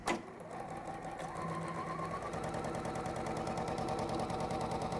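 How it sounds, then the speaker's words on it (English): A sewing machine top-stitches down a folded fabric edge, starting with a sharp click and then settling into a fast, even run of stitches that continues steadily to the end. "We're going to top stitch down the folded side just to hold it there in place."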